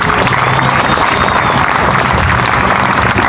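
Audience applause at a Veterans Day celebration, dense and steady clapping from a crowd filling the whole stretch, loud and close with no talk over it.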